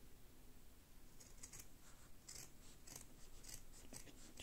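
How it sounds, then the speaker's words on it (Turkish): Scissors snip away excess felt lining fabric while a knitted bag is being lined, a quiet run of crisp separate cuts in an uneven rhythm over low background hiss. "makasımla kesiyorum"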